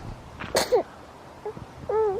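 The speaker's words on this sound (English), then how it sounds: "She's sneezing" A woman sneezes once on a forest nature trail, a short sharp burst followed by faint breathy sounds in the quiet outdoor air.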